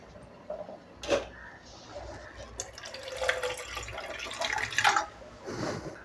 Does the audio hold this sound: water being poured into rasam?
yes